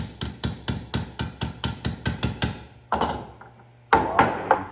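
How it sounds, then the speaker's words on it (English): Metal hammering on a dented 1927 Reo headlight bucket: a quick, even run of about a dozen close, ringing taps, a brief pause, then a few heavier blows. "Kind of really need an array of different hammers when you're doing work like this."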